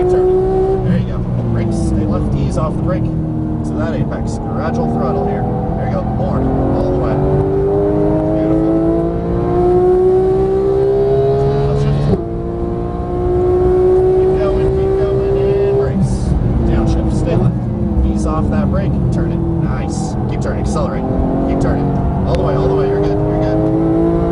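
A supercar on a Las Vegas race track accelerates hard, its loud engine note climbing through the gears in repeated rising sweeps, with a brief dip at each shift and a voice talking over it.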